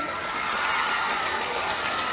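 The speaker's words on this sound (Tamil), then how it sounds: "ஒரு நல்ல கைத்தல் கொடுங்க அவருக்கு." Steady, dense applause from a crowd at a school Tamil literary society event fills the whole stretch at an even, fairly loud level.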